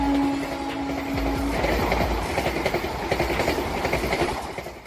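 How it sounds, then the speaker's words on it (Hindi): Vande Bharat Express, a fully air-conditioned 16-coach train, rolling past with a steady rumble and rhythmic clickety-clack of wheels over rail joints, close and continuous. "यह ट्रेन राजधानी दिल्ली को दूसरे शहरों से जोड़ती है।"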